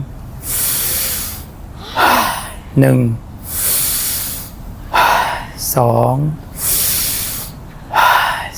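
Loud, close breathing in a meditation exercise: long, deep hissing inhales followed by a full exhale all at once like a sigh, repeated in a steady cycle, with a voice briefly counting between breaths.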